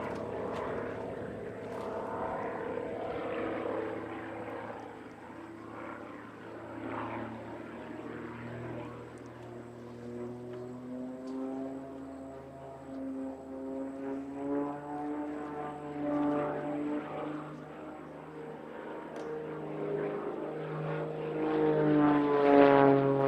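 An aerobatic propeller airplane flies a competition routine at a national aerobatics championship, its steady droning engine holding and then climbing in pitch and growing louder toward the end, with no one talking.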